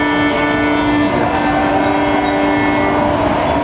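Subway train in the Washington, D.C. metro, with steady loud rumble, sustained tonal hum and faint rail clatter filling the whole stretch with no talk.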